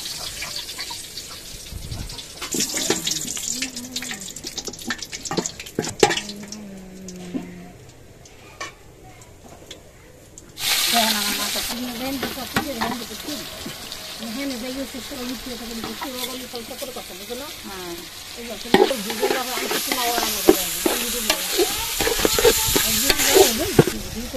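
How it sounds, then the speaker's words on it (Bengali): Cardamom and cinnamon sizzle and crackle in hot oil as pulao cooking begins, with a spoon stirring and scraping the pot in bursts and a voice speaking over the frying. "আমি পোলাও রান্না করবো। এর জন্য দিয়ে দেবো এলাচ, দারচিনি"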